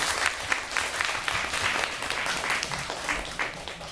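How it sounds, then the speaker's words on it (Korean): Audience applause greeting a film director and actress at a Korean movie talk event in a cinema, a dense, steady wash of many hands clapping throughout, moderately loud and with no speech over it. "큰 박수로 맞이해주세요."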